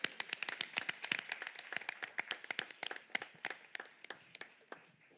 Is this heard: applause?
yes